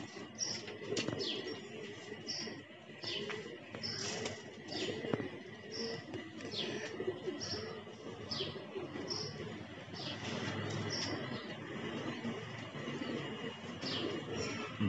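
Several pigeons coo repeatedly outdoors on a hot sunny day, soft rolling calls recurring every second or so at moderate distance over a steady outdoor background, with occasional light chirps mixed in.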